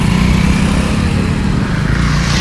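A Rapido bike-taxi motorcycle pulls up close by, its engine a loud, steady low rumble running throughout with no pauses.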